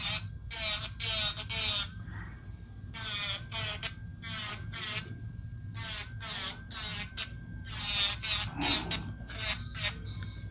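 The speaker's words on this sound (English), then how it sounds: "Angle your drill bit, blend it down." An electric nail drill bit files and blends down an acrylic nail with a low, steady whir beneath nearly continuous talking.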